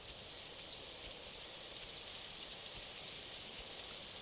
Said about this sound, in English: Oh, there's the rain starting.